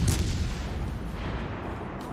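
Heavy naval guns boom in World of Warships Legends, one low, rumbling blast at the start that fades into a sustained, dull roar of distant fire, with no talk over it.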